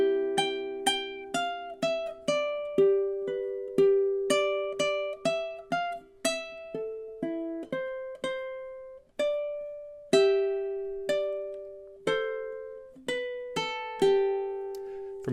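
Plucked ukulele notes and chords play the opening four measures of a song in a slow, even rhythm, each note ringing out and fading, solo and close with no voices.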